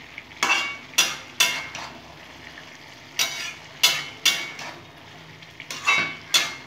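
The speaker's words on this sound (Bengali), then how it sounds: "নাড়িয়ে দেব।" Cabbage and hilsa fish head curry being stirred in a pan, with about ten sharp spoon-against-pan scrapes in irregular clusters over a faint sizzle, close and clear with no talking.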